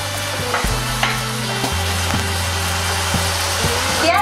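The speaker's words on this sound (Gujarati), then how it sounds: "ટમેટાને આપણે થોડા સોફ્ટ હોય ત્યાં સુધી હલાવતા રહીશું" A spoon scrapes and stirs tomatoes frying in a pan until soft, close and steady over a continuous sizzle, made while preparing Gujarati masala khandvi.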